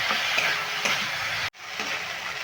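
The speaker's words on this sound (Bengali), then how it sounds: "মশলার সঙ্গে আলু বেগুনের সঙ্গে মশলাটাকে ভালো করে ভেজে" Potato, eggplant and lentil dumplings frying with spices in a pan produce a loud, dense, continuous sizzle with stirring scrapes, cut off briefly midway before resuming just as strong, with no one speaking.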